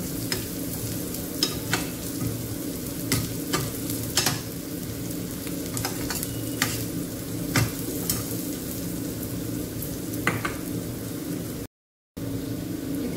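Garlic and spices sizzle and fry steadily in hot oil for a tadka, a continuous close crackle with occasional sharper pops and stirring clicks, no voices.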